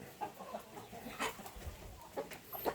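Faint, scattered clucks from young fighting chickens in a pen, short separate calls spread across a quiet background.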